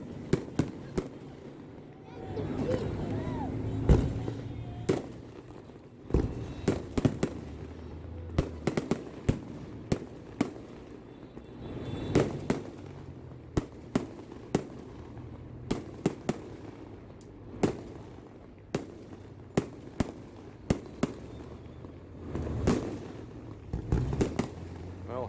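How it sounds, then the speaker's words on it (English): Fourth of July fireworks show on the Nisqually reservation in Thurston County, Washington, with repeated sharp bangs and crackling bursts at irregular intervals over a steady outdoor background, heard from a moderate distance. "They put the best fireworks show in Thurston County in Washington State."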